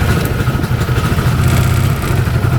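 A UTV engine runs rough and breaks up, a loud close sputtering clatter with an uneven pulsing rhythm through the whole stretch, with no voices over it.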